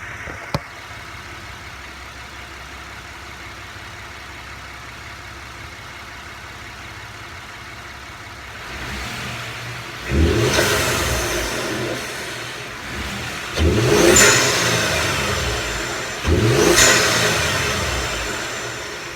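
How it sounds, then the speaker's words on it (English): A Ford F150 with a 2.7 EcoBoost engine and K&N cold air intake idles steadily, then revs three times in rising surges, each swelling loudly and easing back down, heard up close without talk. "you can hear the turbo spool up a lot faster"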